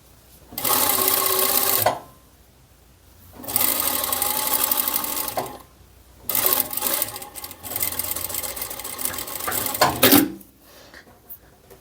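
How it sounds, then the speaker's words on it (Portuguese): Sewing machine stitching ribbon onto knit fabric near the presser foot: fast, loud mechanical whirring in three bursts of a few seconds each, separated by short quiet pauses. "eu vou fazer a costura aqui, bem rente aqui ao calcador"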